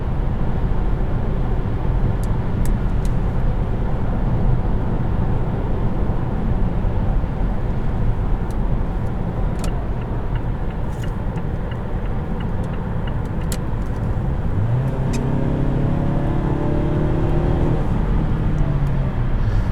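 A 2018 Mazda6 Touring cruises steadily on the highway, with continuous broadband road and engine noise heard from inside the cabin. A low tone rises and falls near the end.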